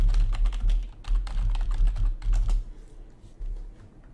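Rapid keystrokes clatter on a computer keyboard in short bursts with brief pauses, close and clear, with no talk.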